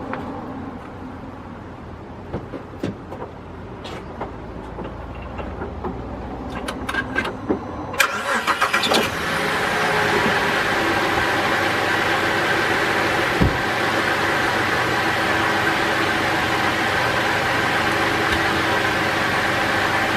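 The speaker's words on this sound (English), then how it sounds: "I'm going to start her up and you can hear and see actually the engine running a little bit strange" Holden VZ with Alloytec V6 engine cranking and catching, then settling into a steady, slightly uneven idle with a misfire, preceded by clicks and handling noises close by.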